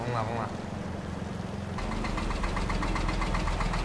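A tractor engine in Farming Simulator 22 runs steadily, and its low rumble thickens into a heavier throbbing drone partway through.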